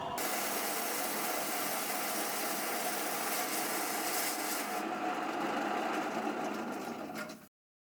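A lapidary trim saw with a diamond blade cuts through a rock sample for a thin section, giving a steady, loud mechanical whine and grinding that runs continuously for about seven seconds before stopping abruptly.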